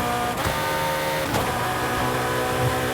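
A modified Ferrari in Forza Horizon drones with a steady, loud engine tone, broken by a couple of sharp gear-shift blips.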